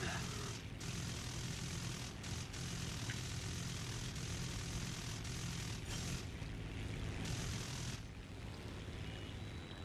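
A steady, droning propeller airplane engine from the combat game War Thunder runs loud and continuous throughout, with a few faint clicks and brief dips laid over the constant hum.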